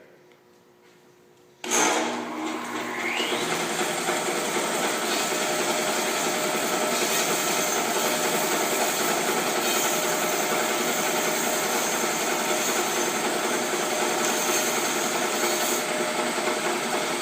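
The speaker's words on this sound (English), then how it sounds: "always cut your pineapple on the bandsaw" A bandsaw in a woodshop runs steadily through a pineapple, a continuous mechanical whir and blade hum starting abruptly after a quiet moment and holding at an even level to the end.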